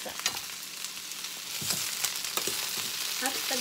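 Leftover picadillo ground meat sizzles and fries in a pan with sautéed zucchini while it is stirred. A steady close crackle carries scraping strokes of the utensil, and no one speaks.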